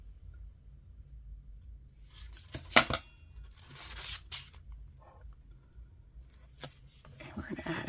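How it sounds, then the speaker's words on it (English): Scissors snipping a small piece of decorative planner tape at a desk, with a couple of sharp close cuts amid soft rustling and handling noise, no talking. "I'm gonna trim this little piece here"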